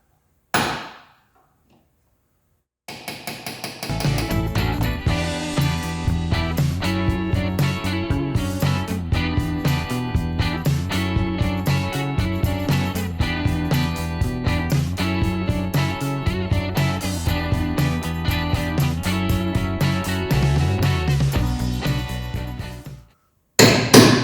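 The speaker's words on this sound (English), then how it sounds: "there's really nowhere to hammer on it, so I'm giving some taps with it" Rapid, steady metallic hammer taps on a Porsche 911T rear suspension part ring out for about twenty seconds in an even rhythm, loud and close, after a brief pause.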